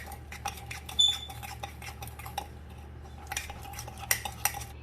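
A spoon beating coffee and sugar in a cup, a quick run of light clinks and scrapes against the sides, faint and close, with a couple of louder taps.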